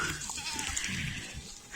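Goats on a small farm bleat faintly amid outdoor background noise, short wavering calls at moderate distance.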